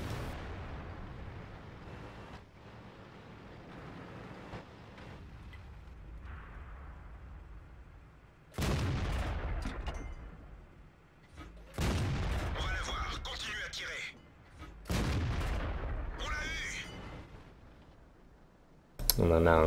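The gun of a Bat.-Chatillon 25t tank fires in a tank battle game, a series of loud, sharp blasts spaced a few seconds apart with mechanical clicks, under a player's voice.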